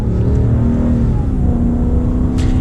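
A 2020 Ram 2500 Power Wagon pickup accelerates with a steady, loud engine drone that rises gradually and stays close and continuous, with no talking over it.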